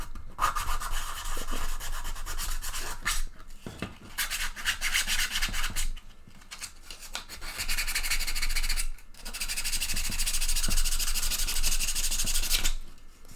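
A T-Rex bust is sanded in long bursts of rough, rasping strokes with brief pauses between them, close and fairly loud.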